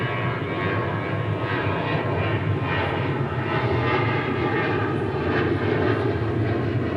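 A Qantas jet airliner moves on the ground at DFW airport, its engines giving a steady, loud, unbroken roar that holds for the whole stretch.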